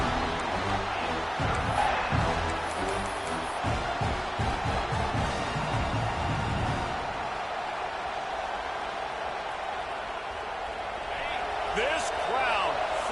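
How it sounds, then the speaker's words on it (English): A stadium crowd roars in the college football video game NCAA 25, a dense, loud, sustained wash of cheering that fills the whole stretch, with thumping impacts early on and a whistle-like sweep near the end. "This crowd, full throat, splitting the eardrums and letting them know it's going to be a long day"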